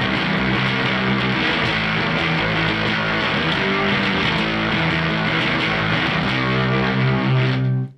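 Electric guitar played through a Super Mruzrite fuzz pedal on an intense setting with no reverb, a thick, trashy, heavily distorted tone sustained loudly throughout before cutting off abruptly at the end.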